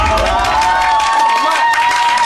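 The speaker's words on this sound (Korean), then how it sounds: "이분 일단 박수 한번 드리시죠." A studio audience applauds and cheers in a steady, loud wash of clapping and voices that holds without a break.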